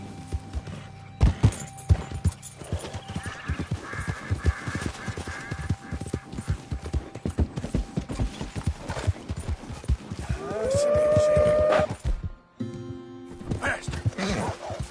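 Horse hooves clip-clop in a fast, rapid rhythm while a horse is ridden in Red Dead Redemption 2, with a rising whinny-like call near the end and loud, steady game ambience throughout.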